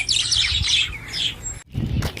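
Birds chirp and squawk loudly and close by in a tree in a Dubai park where a peacock is perched, the calls coming in bright bursts that break off briefly before more calls follow.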